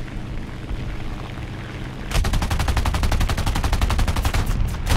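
Rapid machine-gun fire from an aircraft in War Thunder, a CR.32 quater fighter duelling a B-18, bursting in as a fast steady rattle of shots over a constant engine drone and continuing loud to the end.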